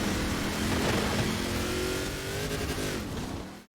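A 1977 Pontiac Firebird Trans Am in a racing video game revs hard and steadily, its engine note climbing in harmonic sweeps for several seconds before cutting off sharply at the end.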